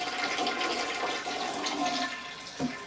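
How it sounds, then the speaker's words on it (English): A household toilet flushes close by, a loud continuous rush and gurgle of water that holds steady for the whole moment. "I'm gonna flush the toilet"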